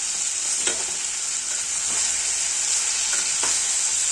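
Tomatoes frying in a pan, a loud continuous sizzle with a few scraping stirs scattered through it, and no voices.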